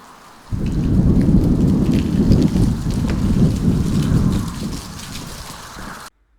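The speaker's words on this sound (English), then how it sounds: "it's dried leaves being blown by the wind." Dried leaves blown by the wind at a stable yard, a loud, continuous rushing rustle that swells and holds steady, easing toward the end before stopping abruptly.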